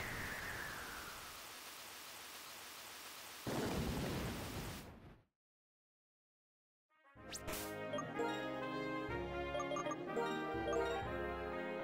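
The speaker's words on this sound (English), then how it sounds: "Phew, what a storm." A thunderstorm in the Pokémon White video game: rain hisses steadily, then a rumble of thunder swells and cuts to a couple of seconds of silence before game music starts with a sharp crack.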